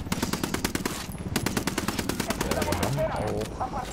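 Rapid automatic gunfire aimed at a vehicle in the video game Ghost Recon Wildlands, dense bursts of sharp shots in quick rhythm that thin out near the end, with a voice briefly heard underneath.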